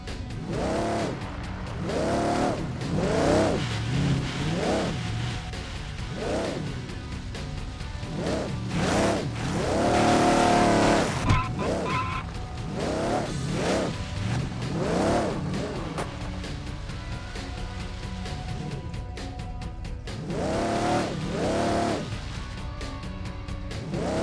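An off-road vehicle drives in the video game Overpass 2, its engine revving in repeated rising and falling surges with a steady loud rumble underneath and a stronger burst partway through.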